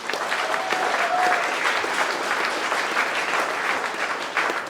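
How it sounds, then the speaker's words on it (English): Sustained audience applause from a large crowd at a Roblox creator event, a dense steady wash of clapping lasting the whole stretch without a break or any talk over it. "give yourself a big round of applause"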